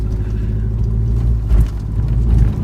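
A Nissan 240SX with new coilovers drives over a bumpy road: a steady, loud engine and road rumble heard from inside the car, with low thumps as it crosses the bumps.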